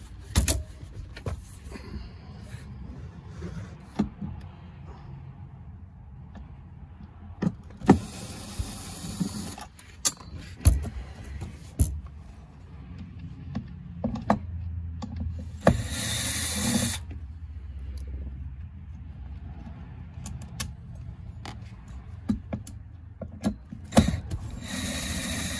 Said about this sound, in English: So there are four screws to take out.